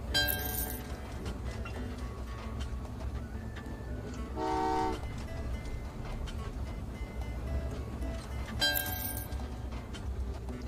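Trains run in the video game Train Valley 2 under a steady rumbling bed, with short horn toots at the start, middle and near the end.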